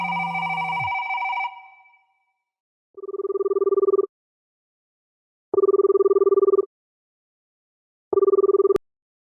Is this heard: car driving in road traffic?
no